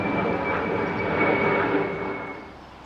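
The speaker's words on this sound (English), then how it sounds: "planes come over really low here." A low-flying airplane passes overhead near a canal mooring, a steady broad engine roar that swells in the middle and fades slightly at the end, with no talking.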